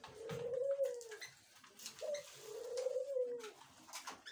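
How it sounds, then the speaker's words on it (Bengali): Australian doves coo in soft, rounded calls, three drawn-out phrases in a few seconds, fairly close and clear over a quiet background with faint other birds. "এগুলো হচ্ছে ঘুঘু, অস্ট্রেলিয়ার ঘুঘু।"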